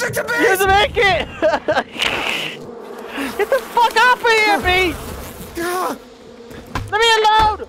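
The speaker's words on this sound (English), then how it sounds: "Get the fuck off of here, bees!" Swarm of bees buzzing in the game Far Cry 5, a steady insect drone running under loud, excited shouting from several players.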